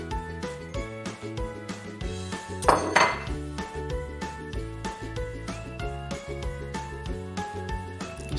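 A utensil scrapes and clinks against a bowl in steady, rhythmic strokes while thick chocolate muffin batter with cocoa is mixed, with one louder scrape partway through and backing music underneath.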